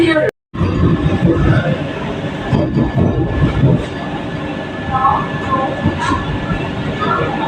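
A loud Vande Bharat Express train rumbles and clatters close by at a station with continuous rolling noise, while people talk over it.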